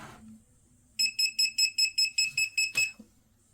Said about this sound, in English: Let's get, oh, no contact, non-contact voltage detector.